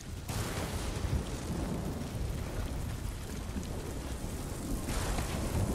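Thunderstorm ambience from the video game Ghost of Tsushima: steady heavy rain with a deep, rumbling thunder roll underneath, loud and continuous throughout, no speech.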